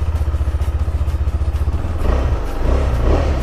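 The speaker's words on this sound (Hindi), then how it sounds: "क्या एग्जॉस्ट है भाई, इतना सूदिंग साउंड है ना इसका" A KTM Adventure 390 motorcycle idling just after a cold start, its single-cylinder exhaust thumping in a fast steady pulse close by, then shifting to a rougher, louder burble, with no talk.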